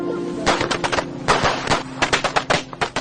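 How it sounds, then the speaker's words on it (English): A rapid, irregular string of sharp firecracker bangs crackles loudly and close by in rural China, popping in dense bursts without a pause. "Firecrackers scare off evil spirits."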